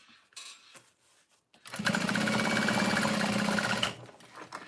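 A sewing machine top stitching runs in one steady, loud, continuous burst of about two seconds, after a few quiet clicks and rustles of handling the fabric.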